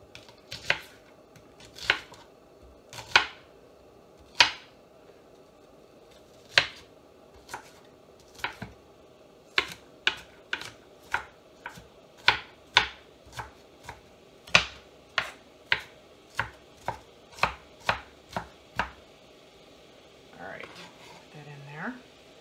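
Knife chopping vegetables on a cutting board for taco beef, sharp distinct chops at first spaced apart, then coming quicker and more regular, close and clear, ending with a little handling noise.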